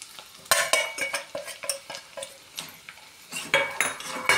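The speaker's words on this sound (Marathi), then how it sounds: "सर्व मसाले व्यवस्थित मिक्स करून घेऊयात।" Turmeric, homemade black masala and mutton masala being stirred into frying onions in a pan for katachi amti: repeated scraping spoon strokes against the pan with light sizzling between them, close and clear, with no talking.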